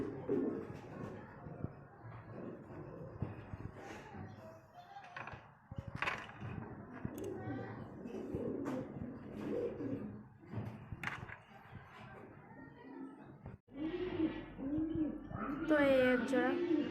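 Beauty Homer pigeons coo in soft, low repeated bursts close by, mixed with rustling and handling noise, and a brighter burst of chirping calls comes near the end.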